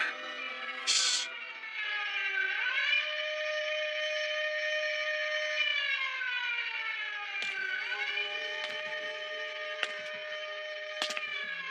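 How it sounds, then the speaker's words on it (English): Air raid sirens wail in wartime Japan, their long rising and falling tones sustained and fairly distant, with a few sharp clicks and knocks over them and no speech. "The air raid sirens."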